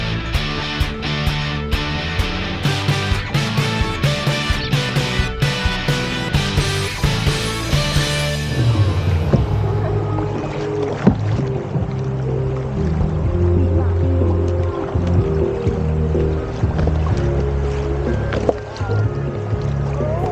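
A kayak paddles down the Song River at Vang Vieng, with steady splashes of paddle strokes and water lapping against the hull, close and continuous throughout.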